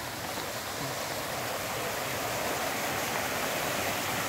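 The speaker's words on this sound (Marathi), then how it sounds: "बघू शकता पाण्याचा आवाज किती आहे" A loud, steady rush of flowing water at a lake garden in dense trees fills the scene, a continuous stream roaring without pause.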